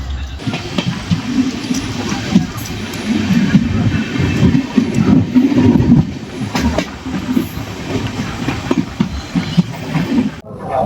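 The Pamban Express passenger train running from Rameswaram to Tambaram rumbles steadily along the rails, a continuous loud low roar with rhythmic wheel clatter heard from inside the moving train.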